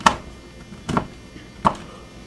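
Knife roughly chopping peppermint candies in a white chocolate base on a cutting board: three distinct, spaced thuds, fairly close, with no talking.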